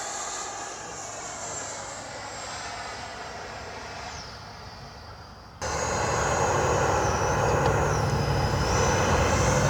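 An FMS F-86 Sabre 80mm EDF RC jet spools up with a loud, steady turbine whine that jumps sharply in volume midway as it takes off and climbs, heard alone with no talk.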